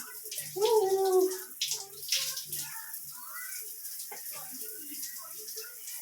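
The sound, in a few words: shower running water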